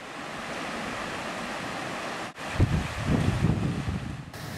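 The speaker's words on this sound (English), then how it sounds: "I am wading through the deepest part." Water sloshing and churning around someone wading through the deepest part of the River Nairn's lower course, a steady broadband rush with a brief dip midway before heavier, closer splashing surges.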